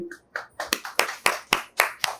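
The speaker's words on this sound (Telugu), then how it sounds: "అందరూ చప్పట్లు కొట్టండి." Children clap their hands in a classroom, a steady series of about eight sharp, close claps at a brisk, even rhythm after a brief vocal sound.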